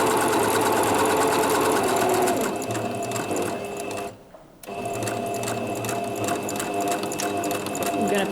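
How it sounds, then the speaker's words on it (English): A sewing machine stitches steadily and loudly up close, its fast mechanical whir running continuously, cutting out briefly for about half a second near the middle, then resuming at the same pace. "I haven't sewn for ages. It actually feels really good to sit behind the machine again."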